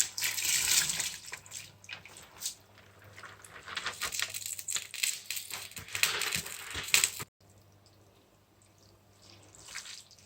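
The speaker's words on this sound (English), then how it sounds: "Now I'm going to go in with my rice." Rice tipped into a coconut mixture in a pot and stirred, uneven scraping and wet shuffling for about seven seconds, then quieter faint stirring to the end.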